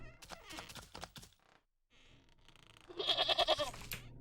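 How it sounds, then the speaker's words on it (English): A goat in the video game Wytchwood bleats in a quick, wavering series of loud cries near the end, following a stretch of game sound effects and a brief silent gap. "There's a goat."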